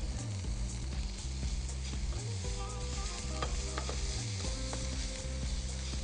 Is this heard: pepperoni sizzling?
yes